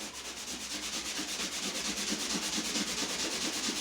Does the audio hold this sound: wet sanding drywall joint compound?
yes